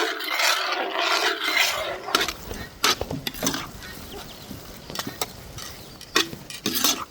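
Semolina (rava) being stirred in a pan with ghee, giving steady scraping and rubbing strokes with intermittent sharper utensil clinks against the pan, close and moderately quiet.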